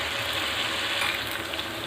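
Desi chicken fries in a pan for a chicken karahi, giving a loud, continuous bright sizzle with faint scraping as it is stirred, and no voice over it.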